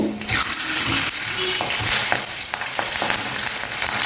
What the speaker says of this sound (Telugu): నాలుగు పచ్చిమిర్చి వేయించేసుకోండి సమోసాలు తినడానికి బాగుంటాయి